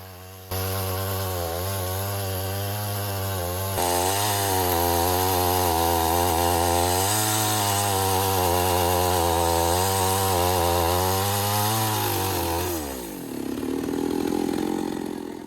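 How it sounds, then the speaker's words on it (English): A chainsaw cuts through a fallen tree blocking a hut at a campsite, its engine holding a loud, steady high rev for about twelve seconds before dropping sharply and sputtering back down near the end. "We are cutting down this fallen tree that's blocking the hut."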